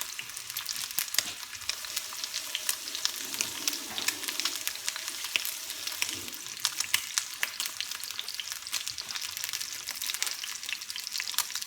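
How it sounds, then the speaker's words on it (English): A rack of lamb sears in a hot pan with an unbroken crackling sizzle, dense spitting pops over a steady hiss, close and even throughout with no talking. "Yes, you gotta sear them, okay? Seal the juices."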